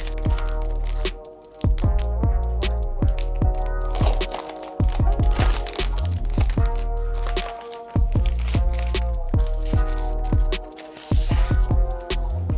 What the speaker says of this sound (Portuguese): E bora desembalar ele.